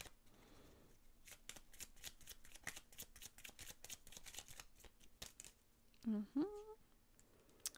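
A deck of Lenormand cards is shuffled by hand, giving a rapid, close run of papery riffling flicks, followed by a brief voice near the end.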